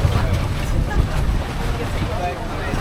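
Boat noise on open water off Bohol, Philippines, with wind buffeting the microphone and splashing waves around a rumbling hull, while muffled voices talk underneath.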